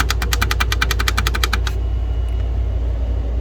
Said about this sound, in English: It's got a wonderful sounding keyboard